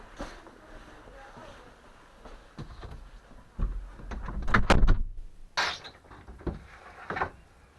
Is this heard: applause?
no